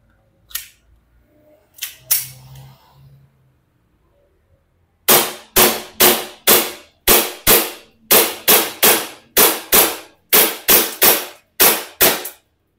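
A DBELL 303 airsoft pistol fires a rapid string of about fourteen sharp, loud cracks in steady rhythm after a few quieter handling clicks, close and with no talking.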